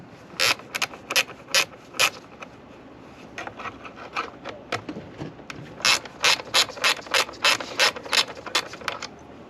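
A hand ratchet removes 10mm bolts from under the front cover of an Earthquake cultivator, giving two bursts of rapid, close clicking separated by a pause, with no talking.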